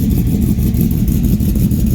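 A lifted Duramax 2500HD diesel truck with a side-exit exhaust and long-tube setup idles close by, a loud, steady, deep rumble with a slightly pulsing throb and no talking.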